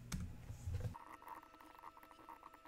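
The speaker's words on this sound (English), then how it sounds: "I sped up the typing of the code" Sped-up typing of code on a computer keyboard, a quiet, rapid patter of key clicks that follows a brief louder thump at the start.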